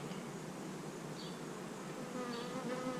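Honey bees buzz steadily around an open hive full of brood, a dense continuous drone with a few louder individual bees passing close by; no voices are heard.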